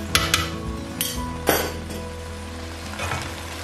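Gajar ka halwa with khoya being stirred in a pot, a metal spoon clanking against the vessel in a few sharp knocks over a low sizzle, close and fairly loud, with no voices.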